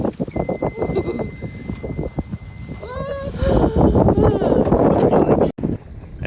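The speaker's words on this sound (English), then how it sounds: "And we're sailing!" A sailboat under way: wind buffets the microphone with gusty rumbles, water rushes past the hull and voices talk and call out over the whooshing.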